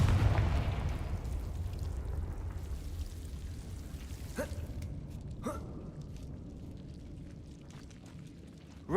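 A Confringo blasting spell in Hogwarts Legacy booms at the start in a dark hall, its rumbling low roar fading out, followed by a couple of sharp magical pops and bursts.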